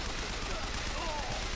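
Turret gunfire in the video game BioShock Infinite, a dense, continuous burst of rapid shots and noisy clatter filling the whole short moment at steady loudness.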